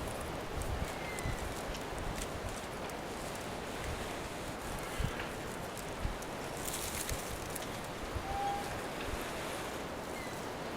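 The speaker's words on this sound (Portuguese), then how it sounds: "o vento está nas minhas costas" Steady outdoor wind rushes and buffets the microphone continuously while a fire is being coaxed from an ember, with faint rustling and occasional crackles and bumps in the mix.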